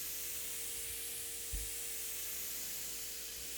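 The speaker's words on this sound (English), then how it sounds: "I have my paint sprayer set on a very light spray" A soft, continuous hiss of a paint sprayer on a very light setting, spraying a drum table, runs steadily throughout, with one brief low thump near the middle.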